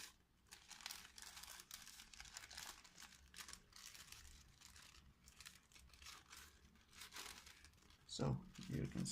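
Sheets of paper are folded for an origami velociraptor, giving soft, close crinkling and rustling in irregular bursts, faint overall, with a few sharper crackles near the end.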